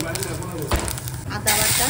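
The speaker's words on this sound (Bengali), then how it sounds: "তেল দিয়ে দিলাম, শুক্তোতে বেশি তেল দরকার পড়ে না। দিয়ে দিলাম রাঁধুনি, সর্ষে, মেথি," Radhuni, mustard and fenugreek seeds sizzle in a little hot oil as the base for shukto. The frying hiss is loud and close throughout, with crackling pops and a brief surge in the sizzle near the end.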